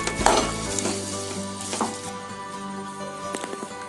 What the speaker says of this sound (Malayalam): നമുക്കിനി ഇതെല്ലാം ഒന്നുകൂടെ ഇളക്കി ചേർത്ത് കൊടുക്കാം